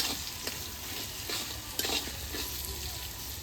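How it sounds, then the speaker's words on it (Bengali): Onions frying in a pot with salt while being stirred, a close steady sizzle with rhythmic scraping strokes of a spoon against the metal. "আর পেঁয়াজ কষানো হয়ে গেছে ভাজা হয়ে গেছে"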